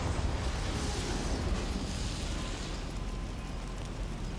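A Confringo fire spell goes off in the Hogwarts Legacy video game, a dense, rumbling blast that holds steady and loud across the whole stretch without fading.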